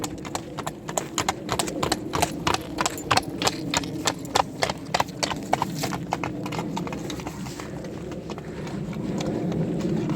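Working mares walk with a steady run of clip-clopping hooves, close and continuous, under a low background rumble with no talk.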